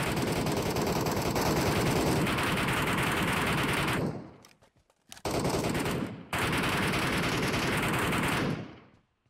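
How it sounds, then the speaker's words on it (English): Sustained automatic gunfire in the mobile game PUBG Mobile Metro Royale, loud and continuous for about four seconds, a brief pause, then two more long bursts that fade out at the end. "Oh, we're shooting someone."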